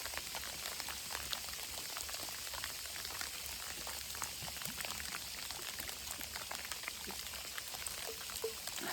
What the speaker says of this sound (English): you're hailing on me, really, at this exact moment